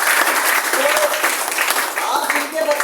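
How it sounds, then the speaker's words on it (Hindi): Enthusiastic clapping from an audience filling a training hall, a loud, continuous wash of many hands lasting a few seconds, with a voice speaking over the applause at points. "जोरदार तालियां।"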